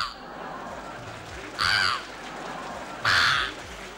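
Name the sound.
performer imitating a crow cawing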